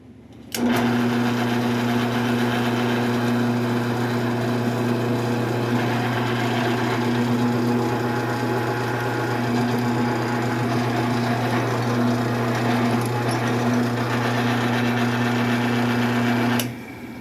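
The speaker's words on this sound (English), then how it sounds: "I drill the correct sized hole to the correct depth" A drill's steady, continuous motor whine runs for the whole stretch at an even pitch, close and loud, boring a hole during a 14-inch bandsaw repair, stopping abruptly at the end.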